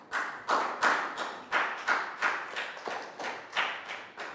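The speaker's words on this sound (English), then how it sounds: "Round of applause, guys." A classroom of Year 3 pupils gives a brief round of applause, about nine evenly spaced bursts of clapping that swell and fade, fairly close and with no talk over it.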